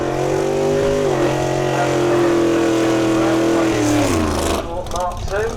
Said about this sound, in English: So Ben Rushbrook with the Ford Mustang 302 cubic inches on